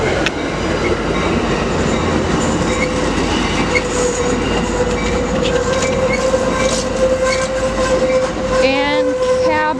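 An Amtrak train led by an F59PHI locomotive pulls into Modesto station, loud and close, with rumbling wheels, clattering railcars, a sustained horn tone and squealing wheels near the end.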